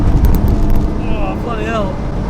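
Toyota Supra with a 400bhp 2JZ engine accelerating, a loud low rumble inside the car, with voices talking over it.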